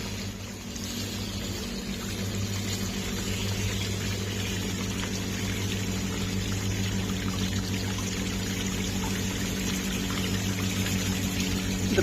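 Water pours steadily down a waterfall on an RC crawler course, a continuous close rushing splash alongside a steady motor whine, with no talking.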